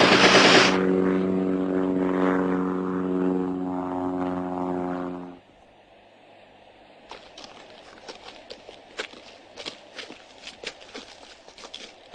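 A propeller-driven observation aircraft drones loudly with a steady engine hum for about five seconds, then cuts off abruptly, leaving quieter crackling and scattered clicks.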